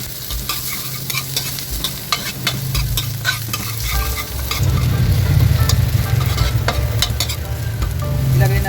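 Garlic hits hot oil in a wok and frying starts at once, a loud, close, steady sizzle with a scraping stir over it. The hiss grows denser and louder partway through and keeps going with no voices.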